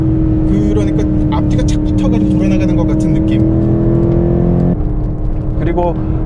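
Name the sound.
BMW M8 Competition V8 4.4L twin-turbo engine driving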